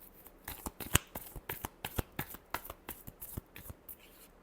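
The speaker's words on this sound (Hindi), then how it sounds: "Last shuffle." Deck of tarot cards being shuffled by hand, a rapid run of crisp flicking and riffling clicks, close and fairly quiet with no talk.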